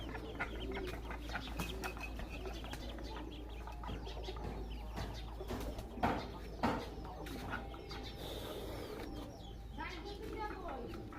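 Ducklings and pigeons in a village yard give off scattered peeps, chirps and soft coos, fairly close but quiet, over a steady low hum, with a voice talking nearby.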